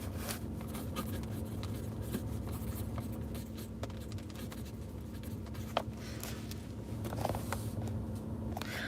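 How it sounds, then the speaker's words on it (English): Pen or pencil scratching across paper in short, uneven strokes, close and quiet, over a steady low hum of background noise, with a few faint taps and a soft rustle. "I gotta write something down, y'all."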